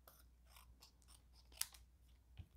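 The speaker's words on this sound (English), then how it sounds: "So I'm just going to hand cut it." Scissors hand-cutting a length of navy and gold glittered ribbon, heard as a single crisp snip amid faint rustling in a quiet room.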